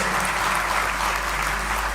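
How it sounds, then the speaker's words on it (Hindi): Dense, steady clapping from a crowd of municipal council employees carries on evenly at moderate volume, with no voices standing out above it. "तालियां बजाइए"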